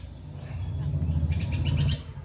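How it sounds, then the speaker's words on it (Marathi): Small birds chirp faintly in quick repeated notes over a steady low engine-like hum, with no talking. "बघ ना पक्ष्यांचा आवाज का बरं येतोय"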